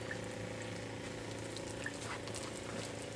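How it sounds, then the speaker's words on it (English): Solar-powered water purification system running as it pumps water, a steady close whir with water gurgling and splashing through it, continuous and even throughout, no voices. "I'm going to turn the system on, solar, and it starts pumping water."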